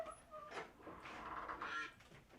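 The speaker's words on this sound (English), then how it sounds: "There's the quacking." Duck-like quacking calls, several honking bursts in quick succession that sound close and fairly loud, with no talking over them.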